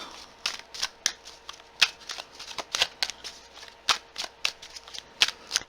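Tarot cards being shuffled by hand in a quiet room, a run of crisp riffling bursts and soft flicks repeating in an uneven rhythm, close and clear with no talking.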